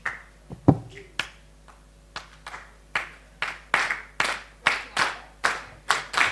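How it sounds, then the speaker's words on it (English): Sharp hand claps, starting sparse and irregular and then settling into a steady rhythmic beat of about two claps per second, close and crisp, with no talking. "you're gonna have to clap your hands like this"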